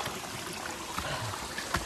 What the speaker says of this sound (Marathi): हे बघा झऱ्यांचं पाणी येते.